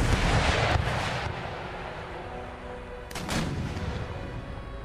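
Artillery in Empire Total War, including 24-pounder foot artillery, fires across the battlefield: two heavy booms roll out with rumbling tails over a steady bed of distant battle noise.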